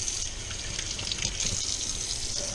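Cleaned walleye fillets get rinsed under a running tap, a steady close hiss and gush of water with slight splashy shifts as the flow strikes the fish, no voices.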